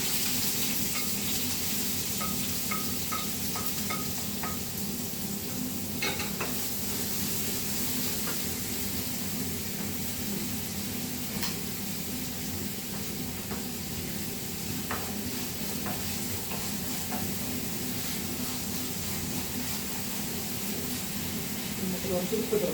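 Chopped garlic, ginger, two onions and green chilies fry in hot oil, a continuous bright sizzle and hiss with intermittent stirring scrapes, while a voice talks over part of it.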